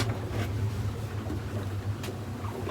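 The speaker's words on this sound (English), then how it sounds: "Yeah, turn the engine off." A steady low engine drone hums continuously from a beach fishing boat at sea, with wind and water wash over it and a brief knock near the end.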